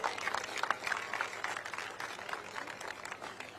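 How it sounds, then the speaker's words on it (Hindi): A large crowd at the JITO Ahimsa Run world-record event claps loudly and energetically, many hands beating together in a dense, uneven burst that slowly eases off. "आप अपने लिए एक बार जोरदार तालियां बजाइए"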